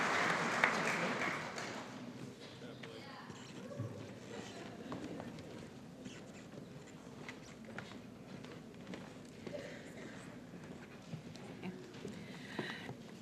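At a high school awards night, the audience applauds the students with soft, distant clapping that holds steady for about thirteen seconds.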